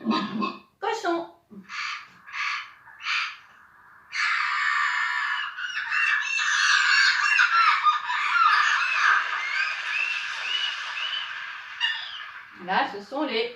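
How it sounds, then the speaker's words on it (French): Seagulls call in a noisy, overlapping chorus of harsh cries near the sea, framed by a voice talking before and after. "Là, ce sont les mouettes."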